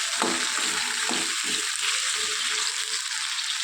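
Ripe tomatoes cook in oil in a pan with a loud, constant close sizzle, while a few utensil scrapes and clinks stir them through.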